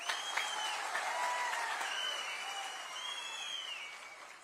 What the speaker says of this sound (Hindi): मैं तालियों की गड़गड़ाहट से पहचान लेता हूं कि आपके मन के अंदर कितना